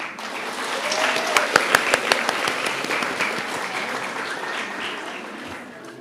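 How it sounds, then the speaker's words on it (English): Audience applause for the live orchestra at a Bharatanatyam arangetram, a steady crowd clapping with several sharp, distinct nearby claps standing out in the middle and faint voices murmuring underneath. "Can we also have a round of applause for our orchestra?"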